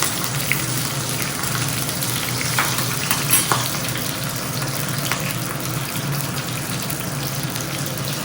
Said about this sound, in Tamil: இப்போ மோர் குழம்புக்கு வறுத்துக்க போகிறோம். வானலியில் 1 ஸ்பூன் எண்ணெய் விட்டுட்டுருக்கேன்.